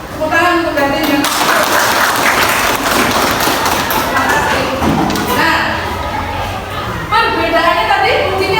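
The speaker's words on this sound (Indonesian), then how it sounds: "Tepuk tangan untuk Gading yang" Applause from a class during a teacher training open lesson, with clapping and chatter mixing with talk over roughly eight seconds.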